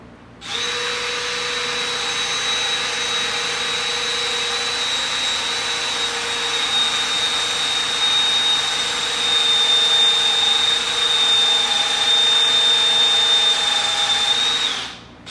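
A power drill bores a mortise for a chair stretcher in a chair leg through a drilling guide, making a loud, steady whine with a high sustained tone that runs close by for about fourteen seconds before stopping.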